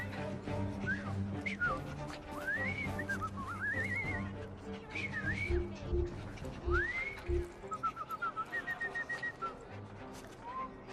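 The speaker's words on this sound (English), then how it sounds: "I've just learned to whistle." A character in Assassin's Creed: Syndicate whistles a wavering, sliding tune in short bursts, ending in a quick repeated trill, over a low murmur of game ambience.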